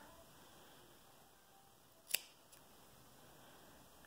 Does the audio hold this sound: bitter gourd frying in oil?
no